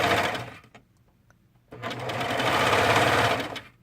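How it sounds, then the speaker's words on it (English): A serger sewing machine overlocks a fabric edge for a drawstring, running in a short burst, pausing briefly, then stitching again in a longer continuous whir. "I'm just serging right along that"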